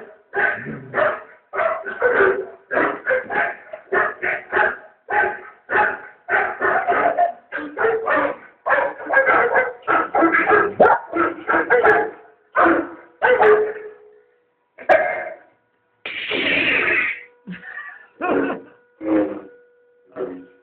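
Dog barking in a rapid series of sharp, close barks with a few yips from a 2012 Volkswagen commercial, continuing steadily with brief pauses.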